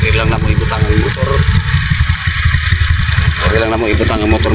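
A motorcycle engine idles close by with a steady, low, throbbing rumble that runs the whole time, and voices are heard over it.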